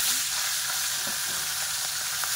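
A fish head frying in hot oil, a close, continuous crackling sizzle with light scraping and stirring sounds scattered through, no voices.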